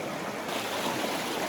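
River water in a gorge flows in a soft, continuous broadband rush, quiet and steady, with no voices.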